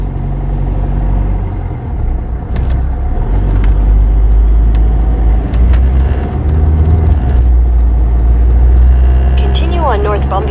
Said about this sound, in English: today we are driving south on Bumby Avenue, beginning on Palm Lane and ending on Gatlin Avenue